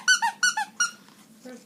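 A small dog's squeaky hamburger toy squeaks about four times in quick bursts, loud and close, followed by a faint softer squeak.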